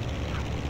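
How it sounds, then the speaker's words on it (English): Propeller airplane engine starting up in the Lego Indiana Jones video game, a brief, loud droning whir with a pulsing low beat, voices overlapping it. "Plane is up and running."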